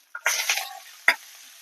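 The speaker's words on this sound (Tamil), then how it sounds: "பாருங்க கடலைப்பருப்பு போட்டுக்கிறேன். நல்லா காஞ்சிச்சு பாருங்க, நல்லா வறுந்துச்சு." Split chickpeas (chana dal) roasting in a hot pan, stirred with a utensil: a short burst of sizzling scrape, then a sharp clink of the spoon against the pan, fading into a soft frying hiss.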